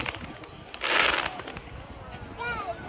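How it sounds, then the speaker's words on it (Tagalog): Fireworks go off outdoors at Tagaytay, a short burst of crackling pops near the middle, fairly faint, while children and adults talk and cheer around it. "Wow, may fireworks pa talaga, no?"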